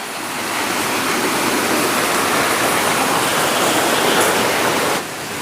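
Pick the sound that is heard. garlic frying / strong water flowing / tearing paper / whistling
strong water flowing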